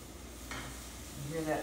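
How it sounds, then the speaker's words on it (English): Burgers and Vidalia onions frying in a pan give a faint, soft sizzle, with a brief stir and a light clink of a utensil toward the end. "You hear that sizzle?"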